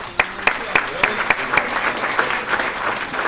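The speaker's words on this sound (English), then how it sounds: "So a round of applause for all of them." A luncheon audience at a chamber of commerce legislative event claps steadily, with a few sharp individual claps standing out in a dense, continuous patter that holds at moderate loudness throughout.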